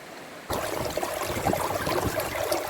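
A creek beside an old gold-prospecting site rushes steadily. The broad, even wash of flowing water cuts in abruptly after a short quiet start and continues close and constant to the end.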